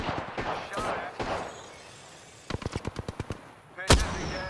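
Rapid bursts of gunfire from a video game shooter, a tight string of about eight sharp cracks followed by one louder blast, with faint talk and game noise earlier.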